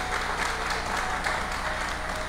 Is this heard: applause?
yes